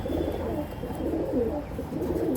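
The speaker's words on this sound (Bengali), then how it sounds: "অনেক সুন্দর একজোড়া কবুতর ভাই" A pair of Shakiredi pigeons coos softly at close range, low rolling calls repeating in an indoor loft with a faint background hum.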